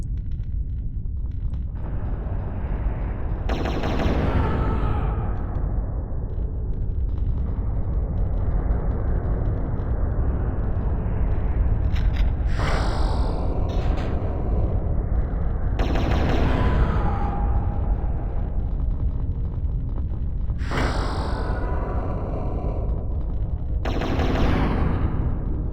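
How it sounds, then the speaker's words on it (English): Explosive-shell blasts from a regular shotgun in the game Turok boom out loud and heavy, several separate shots, each with a sharp crack and a long rumbling tail, over a constant low roar of game background noise. "Explosive shells, nice. It's a regular shotgun."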